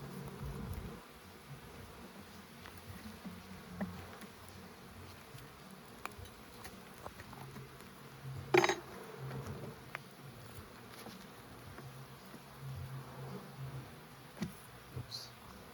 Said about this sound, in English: Got lots of bees up here, guys. Lots of bees.